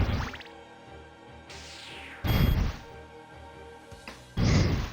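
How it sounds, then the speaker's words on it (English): Water drips and splashes in the reverse castle of Castlevania: Symphony of the Night, with several sharp liquid bursts and thuds spaced irregularly over a sustained musical drone. "That water's falling upward."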